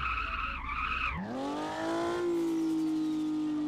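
A Dodge Viper in a car dealer video game revs up, its engine note climbing steadily into a loud, sustained whine that holds steady near the listener after a brief rougher burst.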